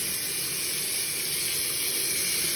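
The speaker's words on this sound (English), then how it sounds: "I can run some water in that, kind of let it down." Warm water runs from a tap into a sink to wet a small mouthpiece cleaning brush. It makes a steady, close, unbroken hiss of flowing water with no voices.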